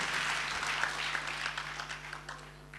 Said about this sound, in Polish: No brawa, drodzy Państwo, brawa.